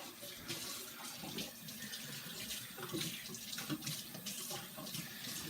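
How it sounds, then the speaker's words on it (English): Buttery fingers rinsed under a running kitchen tap, a continuous splashing stream of water into the sink, fairly quiet and steady, with no voices. "because I got butter on my fingers, I'm going to rinse my fingers off."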